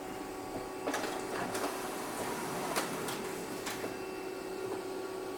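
An HP LaserJet M209dw laser printer runs off a test page, giving a steady mechanical whir with a few sharp clicks and brief feed clunks spread through the run, close and moderately loud, with no talking.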